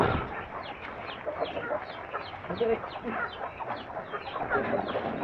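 Chickens cluck and squawk continuously at close range, a busy overlapping chatter of several birds with an occasional louder call.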